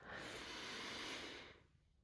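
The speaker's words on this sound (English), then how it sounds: "Let's inhale" A deep, steady inhale during a guided breathing exercise, a long soft airy rush that holds loud and close for about a second and a half, then fades out.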